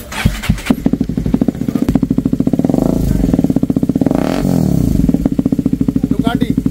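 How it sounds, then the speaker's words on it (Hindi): A Hero Karizma XMR 210 motorcycle fitted with a full-system dual exhaust starts up and idles with a loud, close, fast rhythmic thump, its revs rising and falling twice, while someone talks over it. "पाजी स्टार्ट कर रहे हैं, पाजी स्टार्ट सुनाते हैं इसकी साउंड आप सभी को"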